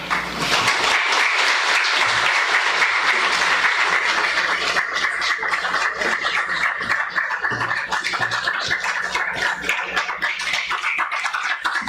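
A hall audience at a long service award ceremony gives a standing ovation, with sustained, loud, dense clapping that holds steady throughout.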